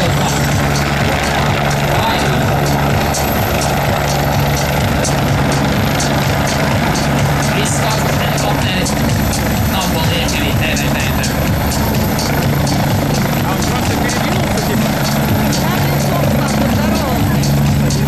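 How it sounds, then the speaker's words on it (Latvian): A helicopter departing at the Baltic Airshow in Degumnieki, Latvia, its steady rotor and engine drone loud and continuous throughout, with a low throbbing hum and some voices or background music mixed in. "šajā brīdī mums helikopters dodas, laikam ir jāpagaida, ka helikopters dodas prom"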